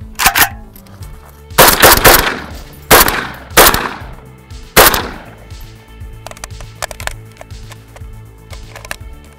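Sharp, loud rifle reports from a Century BFT-47 AK-pattern rifle fitted with a suppressor can, fired as several spaced single shots and then a series of quicker, lighter cracks.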